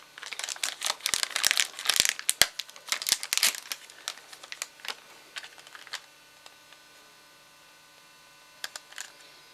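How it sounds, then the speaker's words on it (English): A compact flash card slot on a PowerBook 1400 laptop is opened, giving a burst of close plastic clicks, snaps and crinkly handling over the first six seconds, then sparse light ticks and a final cluster of clicks. "I'll open the compact flash card first."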